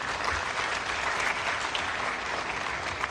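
Steady, moderately distant applause from the audience at an African airline association general assembly award ceremony, a dense wash of clapping without a break.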